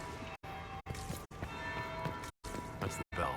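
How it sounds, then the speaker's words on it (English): A bell tolls inside the Dragon Age Inquisition video game, heard in sustained ringing stretches broken by brief silent gaps, fairly loud with no talk over it. "That's the bell. I should get back to the ballroom."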